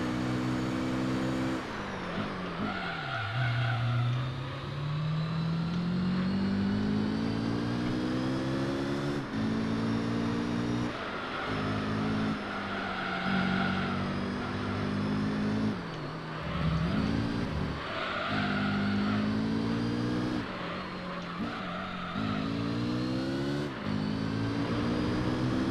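A Honda NSX racing around Grand Valley in Gran Turismo 3, its engine note climbing and dropping through repeated gear changes and corners, a continuous loud revving drone with no talking.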